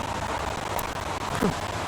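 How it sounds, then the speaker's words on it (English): Steady rain hisses continuously in the video game Heavy Rain, a dense wash of noise with no breaks and no voices. "Goddamn rain. Hasn't stopped pouring since I arrived."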